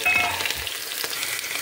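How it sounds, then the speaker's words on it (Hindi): Cumin seeds sizzle in hot oil in a pan, a steady close frying hiss and crackle with no talking, cooked in a simple mountain-village kitchen. "यहाँ पे तेल गर्म हो चुका है, थोड़ा जीरा डाल दूंगा मैं इसमें"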